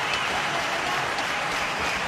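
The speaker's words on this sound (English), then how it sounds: "Yes, he deserves the applause." A cricket crowd in Sharjah applauds a batsman reaching fifty in a 1998 Pakistan versus India match, a broad wash of distant stadium clapping and cheering held at a steady level.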